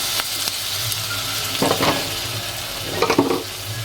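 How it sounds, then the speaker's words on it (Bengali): Cut potatoes frying in spice paste for a pushak dish: a steady close sizzle broken by a few louder bursts of stirring and scraping, with no talking. "এখন ওই যে কেটে রাখা আলুগুলো দিয়ে দেবো।"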